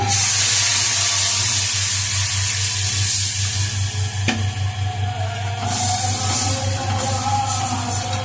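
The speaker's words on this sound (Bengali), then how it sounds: "এবার জল দিয়ে দিলাম" Water poured into a hot pan of rohu carp and potatoes sets off a loud, steady hissing sizzle that fills the whole stretch without letting up.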